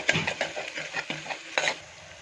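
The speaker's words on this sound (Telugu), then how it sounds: "ఇప్పుడు దీంట్లోనే ఒక హాఫ్ టీ స్పూన్ పసుపు వేసి బాగా ఫ్రై చేసుకోవాలి" Turmeric being fried in a pan for taro root (chamadumpa) curry, with a spoon scraping and stirring in repeated close strokes over a soft sizzle, no voices.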